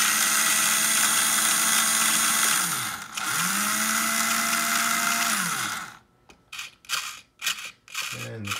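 A vintage Tamiya Madcap RC car's electric motor whines loudly and steadily, its pitch sweeping up and down twice as the throttle rises and drops, then cuts out into a few short mechanical clicks and rattles.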